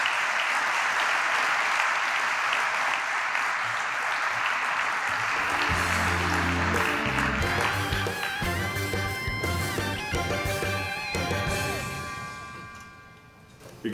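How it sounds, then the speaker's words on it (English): Hall of fame induction crowd, the 1989 football team among them, applauding in a sustained dense roar that fades near the end, with cheers and voices mixing in during the second half. "I thought we'd get a little bit louder applause."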